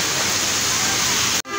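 Heavy monsoon rain pours during a flood in Dadyal, Azad Kashmir, making a dense, loud, continuous wash of water noise. It cuts off abruptly near the end.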